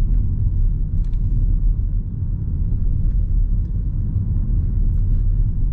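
Inside a BYD Yuan Plus electric SUV on a rough road, a steady low rumble of tires and suspension fills the cabin throughout, with no sharp rattles or knocks and no talking.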